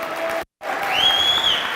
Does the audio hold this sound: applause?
yes